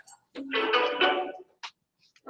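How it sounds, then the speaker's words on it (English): Cell phone ringtone going off in a fluid power class, a short melodic electronic tone that rings for about a second, then a brief second chirp, fairly loud and close with no talking over it. "somebody who didn't turn the cell phone off"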